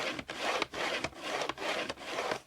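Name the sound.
drawing a marking line for an envelope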